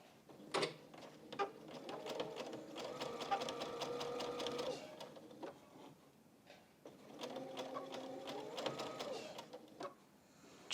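Sewing machine stitching fabric strips onto a crazy patchwork quilt-as-you-go flower block, running in two steady bursts of rapid mechanical clatter with a pause between, close and moderately loud with no talk.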